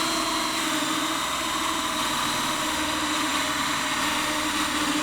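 A power drill bores through wood for a workshop door, giving a steady, unbroken motor whine with a grinding rumble underneath that holds for several seconds, close and moderately loud with no talking.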